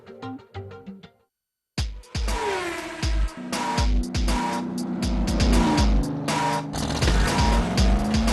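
A race car engine revs hard at a motorsport night meeting, with loud repeated bursts and a squealing, rising engine note after a brief near-silent gap, the roar staying close and strong throughout.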